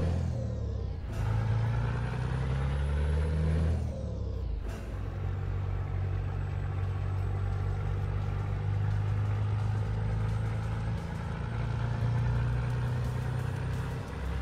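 A truck in Euro Truck Simulator 2 pulls away with a loud, steady diesel engine rumble, a sharp air-brake hiss-release early on and a pause as the gears shift before the engine settles into a continuous drone.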